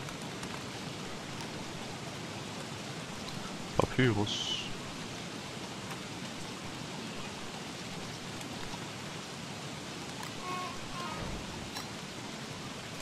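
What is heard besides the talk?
rain in a video game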